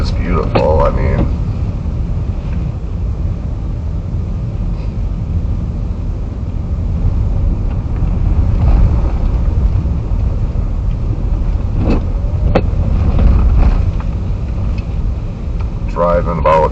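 A car crawls at about 15 miles an hour through a Wisconsin blizzard on Racine's north side, with a steady loud rumble of road and cabin noise and a few clicks and knocks along the way.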